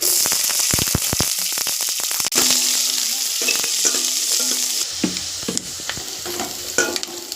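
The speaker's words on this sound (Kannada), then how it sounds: "ಈರುಳ್ಳಿ ಈ ರೀತಿ ಫ್ರೈ ಆದಮೇಲೆ" Chopped onion frying in oil with mustard seeds, cumin, curry leaves and dry chillies for a sambar: a steady close sizzle broken by repeated sharp spatula clicks and scrapes against the pan.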